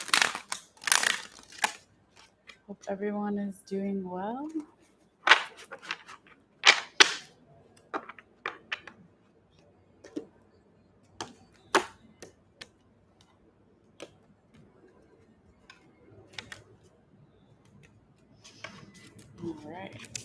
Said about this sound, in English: I'm going to go ahead and start shuffling here